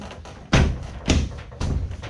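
Three firm plastic thuds spaced about half a second apart, close by, as a door card is knocked back into place on a Suzuki Alto Works CN21S.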